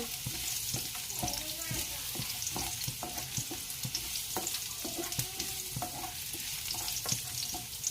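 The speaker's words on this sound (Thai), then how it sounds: "น้ำมันร้อนแล้วก็ใส่กระเทียมเจียวค่ะ ผัดให้กระเทียมหอมนะคะ" Chopped garlic stir-frying in hot oil for a Thai minced pork, cucumber and basil dish gives a steady, close sizzle, broken by frequent sharp clacks of a spatula scraping the pan.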